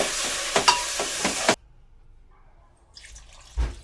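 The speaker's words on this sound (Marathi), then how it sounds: "आता आपण ही वजरी याच्यात टाकलेली आहे. थोडं ते परतून घेऊ." Tripe sizzles and crackles in a hot pan with a few utensil scrapes, then the sound cuts off to near silence before a single soft knock.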